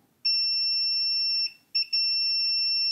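A multimeter continuity tester beeping while probing a PlayStation 5 circuit board, a steady high electronic tone that holds for over a second, cuts out, then returns in two quick blips before sounding continuously.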